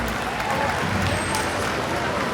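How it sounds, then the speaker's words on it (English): Applause and cheering from an audience at a killer whale show, a dense, steady wash of clapping with crowd noise throughout. "Give yourself a big round of applause."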